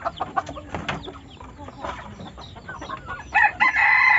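A junglefowl rooster kept for cockfighting crows loudly near the end, after scattered clucks and background chatter from people talking nearby.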